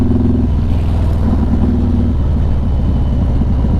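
A motorcycle engine drones loudly and close while riding out of the Black Hills on a cold morning, with a steady low rumble and slight shifts in pitch.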